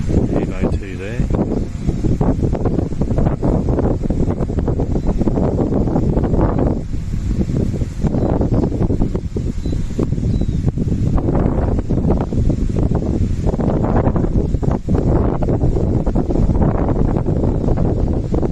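Strong wind on Mount French, Australia, buffeting the microphone in loud, rumbling gusts that rise and fall, with a voice speaking briefly underneath.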